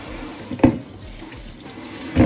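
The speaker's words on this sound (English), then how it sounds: "I'm going to rinse that off real good, like that." Oxtail pieces rinsed under a running kitchen tap, a steady close splash of water over meat with two brief louder gushes as the pieces move under the stream.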